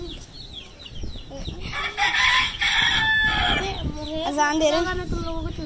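A small chick chirping in high, repeated peeps while adult chickens cluck and crow close by, with a person talking over the birds.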